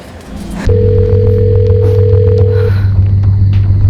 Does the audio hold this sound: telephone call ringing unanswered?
yes